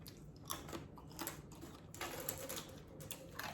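A dog chews a crunchy dehydrated treat: close, uneven crunching, a quick series of crisp crackles with short pauses between bites.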